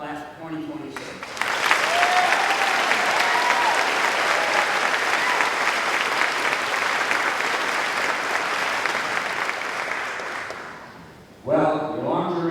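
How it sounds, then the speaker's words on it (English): Sustained crowd applause for the Winthrop High School class of 2026 at a class night and graduation fills about ten seconds, then fades out, with a voice speaking briefly before and after. "a well-earned round of applause for the class of 2026."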